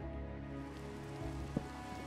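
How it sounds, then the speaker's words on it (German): Rain falls in the Minecraft video game as a steady, dense hiss of drops that runs through the whole stretch, with no one talking. "ja, und jetzt regnet es auch noch."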